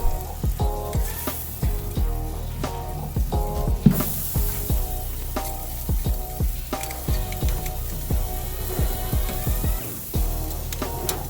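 Butter-basted St Louis ribs sizzle loudly on the hot grate of a Masterbuilt Gravity Series 1050 smoker at 400 Fahrenheit, a steady frying hiss with scattered crackles and soft clanks as the ribs are flipped.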